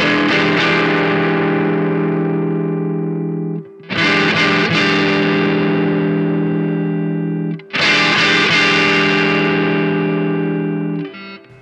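A Boss DS-1 distortion pedal at maximum gain with the tone turned down drives three long, loud sustained electric guitar chords, each ringing out and decaying before the next strike.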